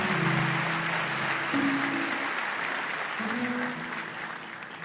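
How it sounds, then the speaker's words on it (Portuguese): A church congregation gives a strong round of applause, dense sustained clapping across a large hall that slowly fades, with a voice speaking over it. "Eu gostaria que toda a igreja desse para Jesus uma forte salva de palmas"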